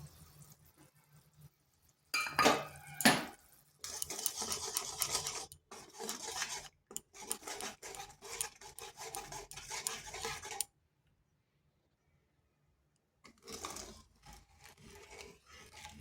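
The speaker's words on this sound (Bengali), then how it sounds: "টক দইটা কিন্তু মশলার সাথে এইভাবে বেশ কিছুক্ষণ নেড়ে নেড়ে ফুটিয়ে নিতে হবে" Yogurt stirred with spices in a pan, a spoon rasping and scraping steadily in bursts, broken by a long silent pause before the scraping resumes.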